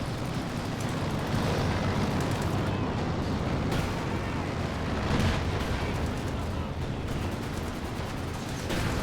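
Soviet mortar fire in Company of Heroes 2, a dense, continuous roar of booming shell impacts and battle noise filling the whole stretch at high volume, with no pause.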